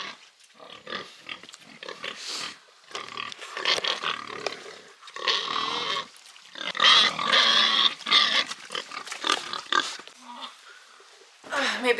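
Pigs grunt and squeal close by around a livestock trailer during loading, in a steady run of rough, overlapping calls with a few short pauses.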